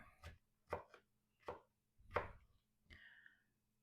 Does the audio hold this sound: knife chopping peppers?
yes